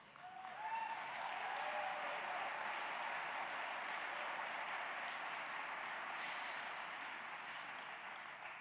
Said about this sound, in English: I don't normally speak in venues where that gets applause.